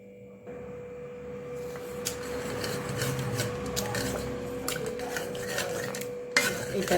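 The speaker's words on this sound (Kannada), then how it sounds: "ಇದನ್ನು ಸ್ಮ್ಯಾಶರ್ ಸಹಾಯದಿಂದ ಸ್ಮ್ಯಾಶ್ ಮಾಡೋಣ." Cooked dal with garlic and onion mashed with a masher in a pot, giving a steady rubbing, scraping sound with occasional sharper metallic scrapes, close and continuous throughout.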